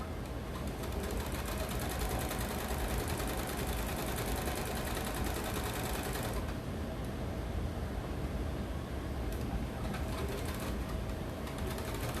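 A sewing machine stitches through fabric while piecing a jelly roll quilt, a steady dense mechanical whir running continuously and fairly loud throughout, with a slight change in tone partway through.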